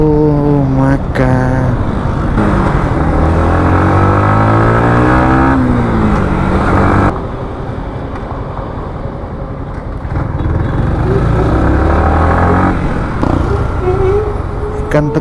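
Yamaha MT-15 motorcycle ridden on a road, its engine droning loud and close with rising and falling revs through gear changes, easing off briefly midway before pulling hard again.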